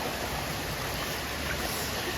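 Cold stream water flows in a steady, loud rush of broadband noise that never lets up, with no voices over it.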